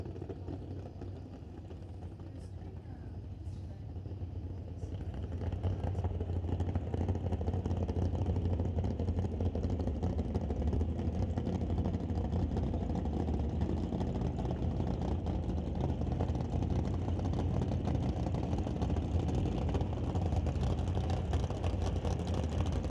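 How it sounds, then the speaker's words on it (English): Drag race cars idle and rumble near the staging lanes at a qualifying session, a low, steady engine drone from a distance that thickens and grows louder after a few seconds, then holds. "I hear race cars running down there at the front of staging."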